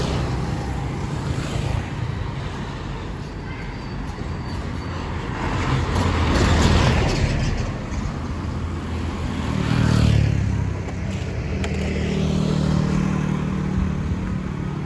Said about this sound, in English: I have to wait for the traffic to clear.